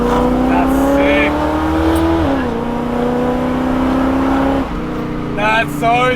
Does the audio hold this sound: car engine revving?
yes